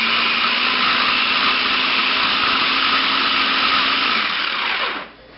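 A Black & Decker food processor grinds meat with a loud, steady motor whine held close for about five seconds, then winds down as it switches off; nobody speaks.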